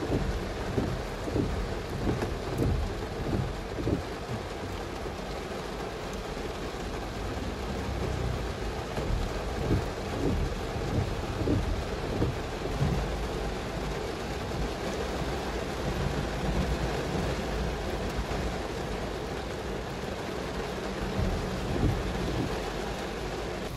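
Heavy rain pours steadily for a long stretch in Shah Alam, Malaysia, a dense constant roar with low rumbling underneath.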